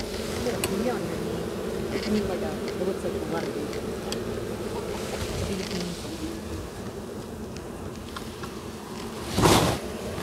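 Honey bees buzz steadily around an opened hive during an inspection, a dense droning hum filling the background under close conversation, with a brief louder burst near the end.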